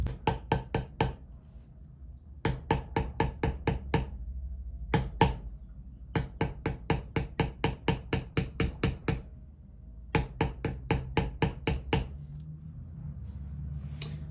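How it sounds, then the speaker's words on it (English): A mallet strikes a beveling tool to shape a vine design into leather for a wallet: rapid, evenly spaced sharp knocks in runs of several strikes, separated by short pauses, close and loud. "I'm going to bevel in the vine"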